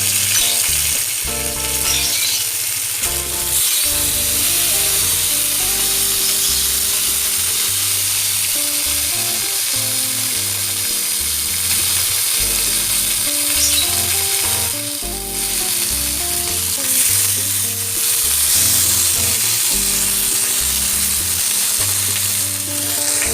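Chicken pieces frying in melted butter in a pan for spicy-sweet grilled chicken, a loud continuous sizzle close up, with repeated clinks and scrapes of stirring throughout.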